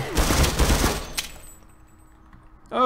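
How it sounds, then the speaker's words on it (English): A close, loud burst of rapid automatic gunfire from a Half-Life firefight rattles for about a second, then fades into near quiet with a faint electronic tone before a voice cuts in at the end. "listening to a firefight happen"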